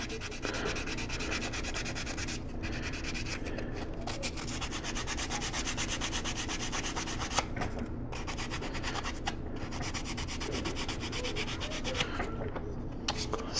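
Continuous steady rubbing of sandpaper on a 1/4 scale Punisher figure kit's cast hair strands, working down a mold line, quiet and close with short pauses between strokes and no talk.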